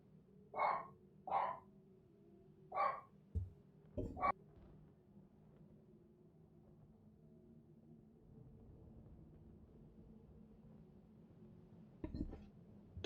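A pet dog named Rocket barking indoors, a handful of sharp single barks spaced early on, then quieter scuffles and a couple more faint yips near the end, with low background sound between.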